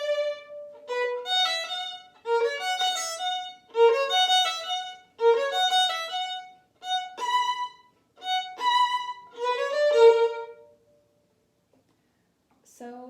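Solo violin playing the fourth violin part of a Vivaldi piece from the tutti at measure 5, a steady run of bowed, repeated note patterns in half position, close and clear, stopping before a brief silence at the end.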